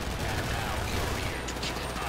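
Gunfire during a heist in GTA 5, a dense fusillade of rapid shots blending into a continuous crackling roar, with faint voices in the mix.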